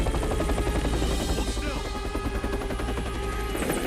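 Helicopter rotor thrum and bursts of gunfire from the Gears of War Reloaded video game, loud and continuous, with voice-like sounds blended into the dense action mix.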